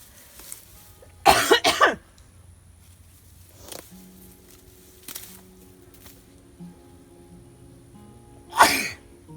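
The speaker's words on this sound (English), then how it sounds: "And now I sneeze." One sharp, explosive sneeze breaks a quiet scene, followed by faint rustling and a second short burst near the end.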